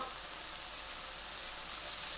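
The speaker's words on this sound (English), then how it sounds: "we're going to add our water" A steady, close sizzling hiss, as water hits a hot wok, continuous and even throughout.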